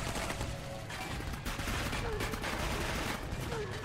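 Sustained rapid gunfire in the PC shooter Clive Barker's Jericho, a dense loud barrage of shots filling the whole stretch with game noise.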